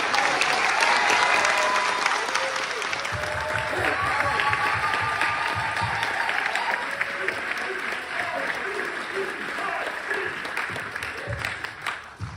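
Audience applause fills a hall at a band's interview event at the Missouri History Museum, a steady, loud wash of clapping with crowd noise that continues for the whole stretch, with some voices mixed in.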